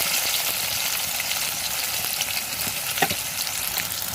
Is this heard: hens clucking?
no